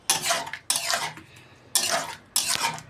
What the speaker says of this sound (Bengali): এবার তরকাটার সাথে মশলাটা আমি খুব ভালো করে মিশিয়ে নেব।